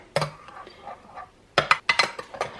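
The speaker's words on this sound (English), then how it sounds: "I'm going to mix it, and I'm getting this nice delicious batter" Vegan French toast batter with banana being mixed in a bowl: scattered clinks and scrapes of a utensil against the bowl, a single knock, then a quick cluster of sharper taps, close and fairly quiet.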